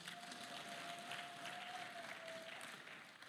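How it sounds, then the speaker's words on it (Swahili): A church congregation at a miracle service claps together in a steady, diffuse burst of applause that fills the room, heard at moderate distance without speech over it. "Piga makofi kwa Yesu"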